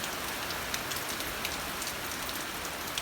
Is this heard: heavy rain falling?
yes